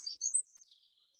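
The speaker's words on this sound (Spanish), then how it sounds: "Los pájaros que pululan por el jardín nunca se van muy lejos" Small birds chirping in a hotel garden in Costa Rica, a few quick bright tweets up close followed by fainter trailing calls.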